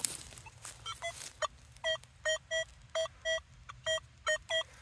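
A metal detector in a field sounds a series of short, evenly spaced electronic beeps over a low steady hum, with a few fainter chirps before them, reading a target ID around 32.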